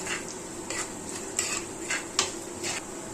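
Half a spoon of turmeric powder is stirred into onions in a pan for salmon fish curry, with a spoon knocking the pan at a steady pace under a faint sizzle.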